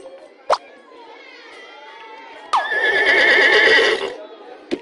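A horse summoned in the video game Scribblenauts Unlimited gives a loud, clear whinny lasting over a second, preceded by a short sharp sound, with brief game sounds around it.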